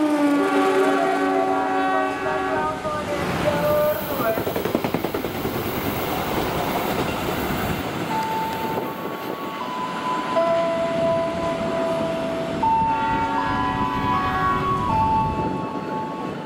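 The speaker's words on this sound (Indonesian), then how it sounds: "Selanjutnya melintas kereta api Serayu." Serayu passenger train rushing past at speed, a loud sustained roar of wheels and carriages with a horn blast at the start and tonal horn or brake notes later, close and continuous.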